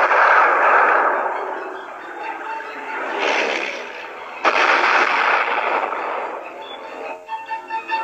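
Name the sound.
bombs exploding on old German battleships, precision bombing demonstration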